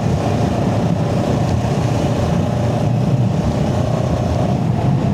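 A CFMOTO CLX 700 motorcycle engine hums steadily while riding, a continuous mid-level drone mixed with wind rush and no speech.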